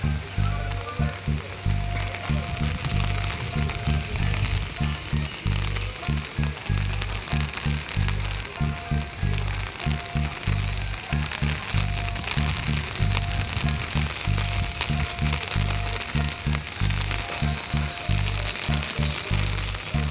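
Rain falls steadily at the Rabindra Kuthibari in Shilaidaha, Kushtia, making an even hissing wash with a faint repetitive low thumping underneath throughout.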